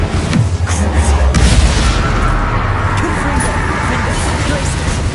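Incendio fire spell cast in the video game Hogwarts Legacy, a loud rumbling fiery blast with deep booming low end, continuous over the whole short stretch.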